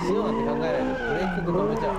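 Car tires squeal and skid through a drift spin, a loud, wavering screech with rising and falling pitch that lasts the whole moment, with a voice faintly present underneath.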